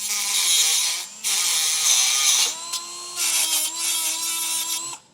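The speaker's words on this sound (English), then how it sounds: "You can use a reciprocating saw, anything to cut off this stud flush with the nut on the outside mounting point on the bumper beam" A reciprocating saw or similar power tool cuts a steel stud flush at the bumper beam mounting point of a 2013 Mini Clubman. It makes a loud, harsh, high whine in long bursts broken by short pauses, close up.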